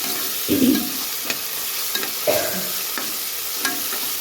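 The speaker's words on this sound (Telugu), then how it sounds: "కొంచెం అల్లం కూడా వేస్తున్నానండి అల్లం వేసుకున్న తర్వాత కలుపుకోవాలండి ఇలా బాగా కలుపుకున్న తర్వాత" Ginger sizzles in a pan with spicy Telangana-style chicken, a continuous frying hiss broken by several distinct stirring scrapes spaced about a second apart, close and clear with no talk.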